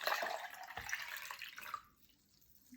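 Water poured into a coffee cup: a steady splashing trickle for nearly two seconds, then it stops and a quiet pause follows.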